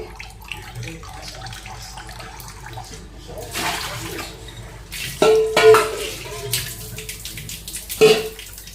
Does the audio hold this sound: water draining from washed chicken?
yes